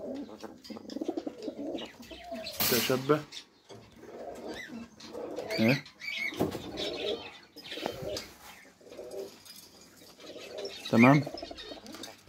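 Pigeons coo softly in low throaty bursts, with occasional wing flaps, while someone talks over them.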